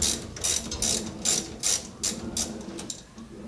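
A hand ratchet loosening the 10 mm battery terminal nut on a Camaro, giving quick bursts of close, crisp clicking in an uneven rhythm, about eight bursts in a few seconds.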